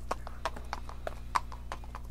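Hooves of horses carrying riders clip-clop in an uneven trotting rhythm, about a dozen distinct strikes, moderately near over a low steady hum with no talking.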